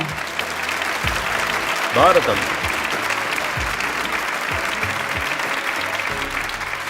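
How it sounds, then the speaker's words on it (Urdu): A television show audience claps for a young girl about to recite the Quran from memory, a short burst of applause rising amid ongoing speech from a host. "ان کے لیے تالیاں"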